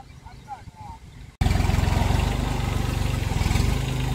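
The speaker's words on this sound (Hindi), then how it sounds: "और ट्रैक्टर प्यार से चले" A tractor engine works in a farm field, a steady low rhythmic chugging that starts abruptly and runs loud and close after a quieter opening with faint background sounds.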